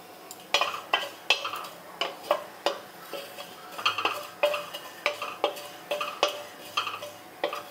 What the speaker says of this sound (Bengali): সেই মৌরি আর গোটা জিরে একটু শুকনো খোলায় ভেজে নিচ্ছি।